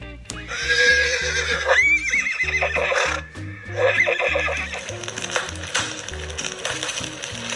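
Horses neigh and whinny in panic as a hut burns, loud shrill cries repeating over hoof clatter and a dramatic musical backing, close and continuous.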